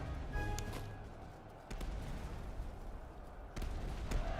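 Cannon volley in a Master of Command video game battle, a few sharp booming reports scattered over a rumbling battlefield din, moderately loud, with no voices.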